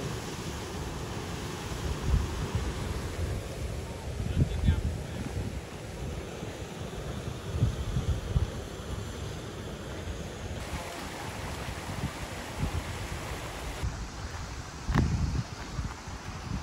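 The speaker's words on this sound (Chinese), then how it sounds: "有瀑布哎！" A waterfall on a mountain stream in a rocky river gorge, heard as a steady broadband rush of falling water, fairly close, with wind buffeting the microphone now and then.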